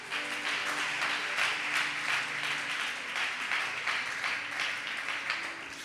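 Congregation applauding and acclaiming the Lord at a church service, a dense, steady wash of many hands clapping with cheering voices, loud and sustained throughout without a break.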